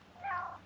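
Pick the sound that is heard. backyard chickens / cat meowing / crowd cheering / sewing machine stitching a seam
cat meowing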